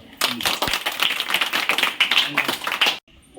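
Schoolchildren clapping together in a classroom, a dense burst of many hands clapping rapidly and fairly close for about three seconds before stopping abruptly.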